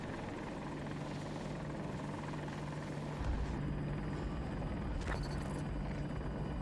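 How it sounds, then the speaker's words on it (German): AH-64 Apache attack helicopter in a video game, a steady, loud rotor and engine drone heard from inside the cockpit, continuous throughout with a brief swell partway through. "ich bin im Heli"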